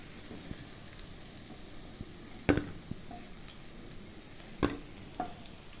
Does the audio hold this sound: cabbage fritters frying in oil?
yes